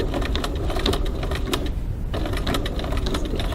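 A sewing machine stitches across a drawn line on a crossbody bag, a fast steady mechanical chatter of needle strokes up close, with a brief slowing pause in the middle before it picks back up.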